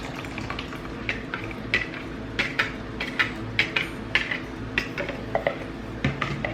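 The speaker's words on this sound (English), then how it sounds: "We're gonna mix this, and then we're gonna add dry and wet together and go stir it with Miss Brandy Gritty." A spoon works through wet and dry dog birthday cake batter in a bowl, making a series of soft scraping, clicking strokes in an irregular rhythm, close and moderately loud, with no voices.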